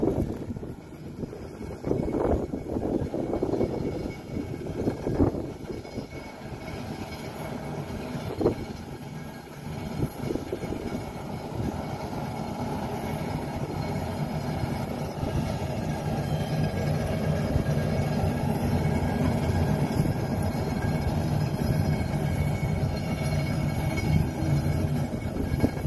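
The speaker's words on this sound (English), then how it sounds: "Never seen a train go up a hill like this." Freight train hauling coal slowly up a hill, a steady low rumble and grind of cars and engine that continues throughout, fairly close, with some clattering early on and no talk.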